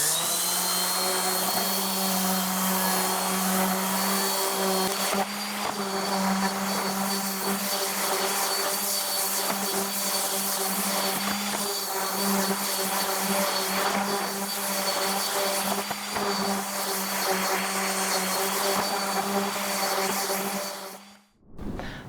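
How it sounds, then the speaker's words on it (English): Power sander working cedar planter boards with 150 grit sandpaper, a loud steady whine and hum that runs unbroken for about twenty seconds before cutting off abruptly near the end. "I'm going to sand all of these pieces before assembly because it will be much easier. I use 150 grit sandpaper."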